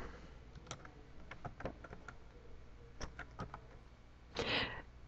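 A username and password being typed on a computer keyboard, with quiet, irregular clicking keystrokes in short bursts and one louder clack near the end, close and isolated in a quiet room.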